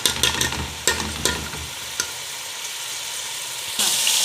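Tomato concentrate sautés in a cooking pot for a Kabyle marqa stew, a close hiss of frying under a few quick stirring scrapes, then a louder sizzle surges near the end.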